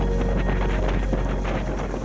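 Strong wind buffets the microphone on a sailboat during a race, a loud, continuous roar with gusty surges and water rushing beneath.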